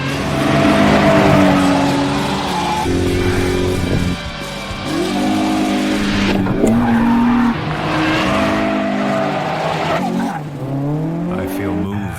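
A race car drifting through corners in an Initial D race, with loud, sustained tire squeal and skidding over a roaring engine whose pitch shifts as it slides and accelerates, close and continuous.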